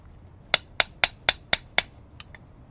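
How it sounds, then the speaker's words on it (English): Inline skate wheels are snapped back onto their frames: six crisp, evenly spaced clicks close by, then two softer ones, with a quiet room behind. "I'm gonna pop the wheels back on."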